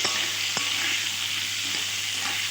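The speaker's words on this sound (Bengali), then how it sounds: "দিয়ে দিচ্ছি পরিমাণ মতো নুন আর হলুদ, দিয়ে কিছুক্ষণ নাড়াচাড়া করে" Ridge gourd frying in a pan with salt and turmeric, giving a steady close sizzle while a spatula stirs, with a couple of soft scraping knocks, no talk.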